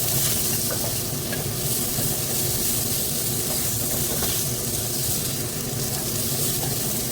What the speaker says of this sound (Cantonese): 快炒佢一陣